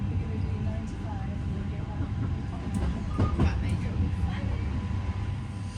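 A train pulling out of Stockport station, with a steady rumble and faint rail clatter heard from on board, under murmured voices.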